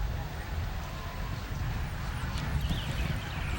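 A horse's hooves thud and clop across a show jumping course at an outdoor competition in Wellington, Florida, the footfalls muffled beneath a broad murmur of background voices and crowd noise.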